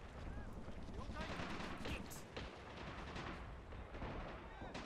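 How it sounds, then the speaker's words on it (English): Distant gunfire from Men of War: Assault Squad 2 in a Pacific campaign battle on Borneo, a dense continuous rattle of shots and rumbling blasts running through the whole stretch at steady loudness. "What the heck are they shooting at over there?"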